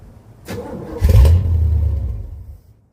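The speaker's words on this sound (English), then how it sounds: "I would like to offer you a startup of the Corvette" A Chevrolet Corvette cranks briefly, then fires and catches into a loud, rough, deep idle that settles and holds before fading, with no talking over it.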